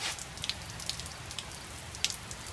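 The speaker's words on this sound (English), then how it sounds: "See, it's raining outside." Steady rain patters outside a garage, with scattered drops ticking close by and a few sharper splashes over a constant soft hiss, quiet and without voices.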